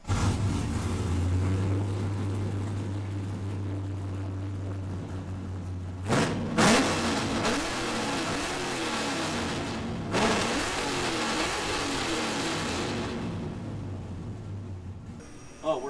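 An LS-swapped engine on a budget build revs hard on a dyno, a steady loud drone rising and falling across the pull, with sharp bursts of throttle about two-thirds of the way through.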